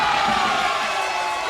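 Fans at a men's intercollegiate team bowling championship keep up a loud, continuous wall of cheering and shouting that fills the hall evenly.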